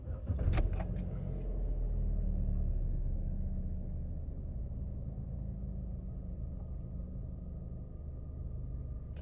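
A car with an evaporative emissions purge control fault restarts after a brief rattle of keys, its engine settling into a steady low idle rumble that continues alone without any talking.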